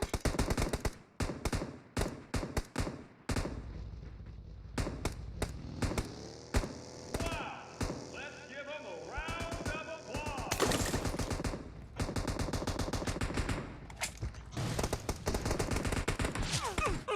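Gunfire in PUBG Mobile, rapid automatic bursts and single shots packed densely across the clip, loud and sharp, with a voice talking briefly between volleys.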